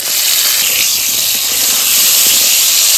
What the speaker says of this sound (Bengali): কড়াইতে তেল দিয়ে দিয়েছি, এখন আমি আলুটা ভেজে নেব।